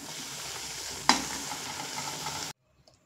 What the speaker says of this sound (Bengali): তো বাকি বড়াগুলো আমি একইভাবে ভেজে নেব।